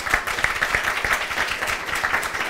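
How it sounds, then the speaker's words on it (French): An audience at an event applauds, a steady patter of many hands clapping at moderate volume for a few seconds. "On l'applaudit."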